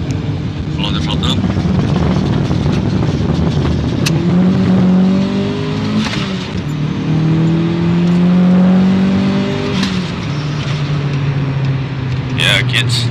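A car engine fitted with a Megasquirt MS3X pit lane limiter runs in second gear, its loud drone sweeping up and down in pitch with repeated revving surges, close and continuous without talk.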